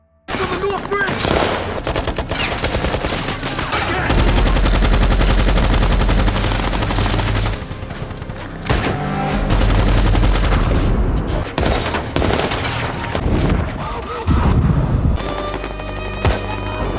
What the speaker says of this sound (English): As additional Taliban members arrive at the scene, leading to a fierce shootout.